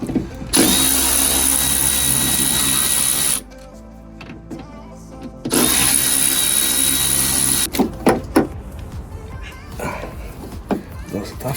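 Power drill unscrewing Phillips screws from a Nissan Note car door during a lock replacement, two long steady whirring runs with a pause between them, close and loud, followed by clicks and handling noise.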